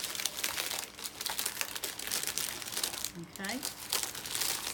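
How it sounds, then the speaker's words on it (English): Cellophane crinkles and rustles continuously close by as the excess is trimmed from the rim of an autumn Diwali flower arrangement, with a person speaking briefly over it. "you can trim the excess cellophane away. So just go round the rim,"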